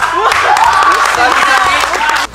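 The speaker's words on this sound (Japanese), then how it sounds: "拍手。" At a high school basketball workout, a group claps along with lively talk and laughter, and the applause fades out at the end.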